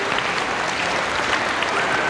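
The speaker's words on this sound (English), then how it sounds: "let's give our instrumentation or students a round of applause" A school spring concert audience of parents and students gives loud, dense applause, a continuous crowd of many hands clapping up close, with a few voices mixed in.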